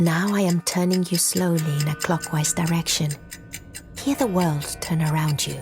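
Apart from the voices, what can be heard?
clock ticking nearby, Papa Sangre video game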